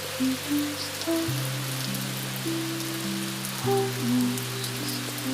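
Steady rain falling on a surface, a soft continuous patter with scattered drops, alone beneath a calm held musical drone.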